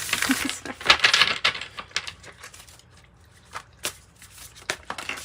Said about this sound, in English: I'm trying to shuffle